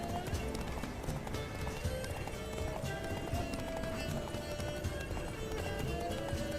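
A horse gallops in The Witcher 3, a steady rapid clip-clop of hooves under constant game wind and ambient noise, with a brief neigh-like tone and occasional character talk.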